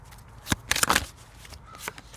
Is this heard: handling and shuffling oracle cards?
yes